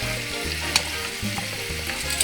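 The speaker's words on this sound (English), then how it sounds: "Pan is already hot, so it should start cooking." Thin-cut fajita steak sizzles steadily in a hot pan, a close, continuous hiss with a few faint crackles and no voices.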